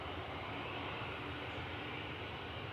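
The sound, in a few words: airliner at Manchester Airport, taxiing or on approach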